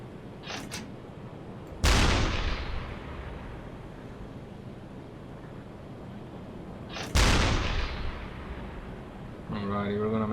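Two booming blasts from a U-boat deck gun in the submarine game UBOAT, each a sharp, loud report with a long rumbling decay, spaced about five seconds apart over a low background drone.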